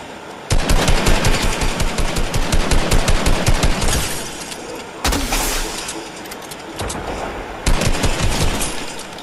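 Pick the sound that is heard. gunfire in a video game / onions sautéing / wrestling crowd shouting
gunfire in a video game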